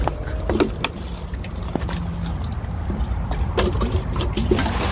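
Water splashes and pours steadily while plants are watered inside a greenhouse in the Netherlands, a continuous close trickle with scattered drips and rustles, no voices.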